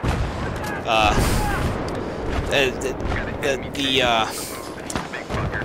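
Explosions and bursts of gunfire in the Battlefield 3 shooter game crack out repeatedly over a busy, dense battle din, with voices mixed into the action.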